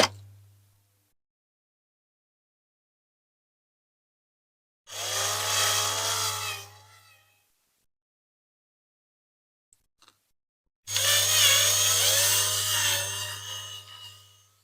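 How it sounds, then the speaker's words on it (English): A hand-held power drill whines in two bursts of about two seconds each, grinding out a metal rivet on a Matchbox diecast F1 car, separated by silence with a couple of small clicks. "I'm holding it in my hand like that so I can feel the drill."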